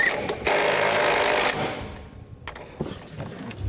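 Bolts on a truck front leveling kit for a 2007-2015 Chevy Silverado 1500 being tightened with a power tool, a steady mechanical buzzing burst followed by shorter intermittent clicks and taps nearby.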